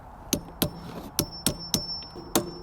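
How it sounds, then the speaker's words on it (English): Star nut being hammered into a mountain bike fork steerer tube: seven sharp metallic hammer strikes at a fairly steady pace, close and loud, with a faint ringing tone between blows and no talking. "Right, we just need to whack in the star nut."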